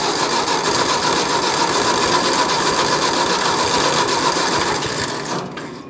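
A warm engine on a starter cranks over without catching. It makes a rapid, steady, mechanical chugging that is loud and close, runs for about five seconds, then trails off. No one speaks over it.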